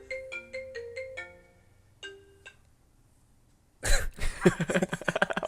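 A phone ringtone plays a quick series of bright electronic beeps, pauses, chirps again briefly, then gives way to loud clattering noise.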